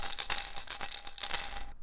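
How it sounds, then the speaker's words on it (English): Bigger bits of pasta rattle inside a homemade shaker, giving a series of bright, uneven shaking bursts that sound close and fairly loud, with no speech. "And if we get bigger bits of pasta in there, it'll sound different again."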